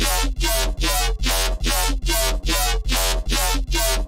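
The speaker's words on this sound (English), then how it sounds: "this is your sort of 4 on the floor rhythm type of bass" A pulsing synth bass pumps in a steady four-on-the-floor rhythm, loud and continuous, with regular dips between each beat.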